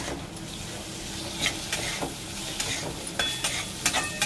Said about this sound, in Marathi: आता हे शेंगदाण्याचं कूट घालू आपण याच्यात दोन मिनिटं परतवून घेऊया